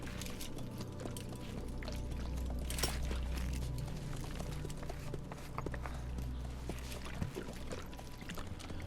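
Water in Metal Gear Solid V: The Phantom Pain, a steady pouring, splashing flow with occasional sharper splashes and soft step-like knocks, fairly quiet and continuous.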